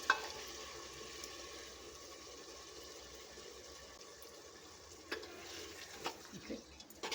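A spoon stirs a pot of white kushka rice mixed with sour curd, giving soft, faint scraping and a few light clinks toward the end over a quiet kitchen background.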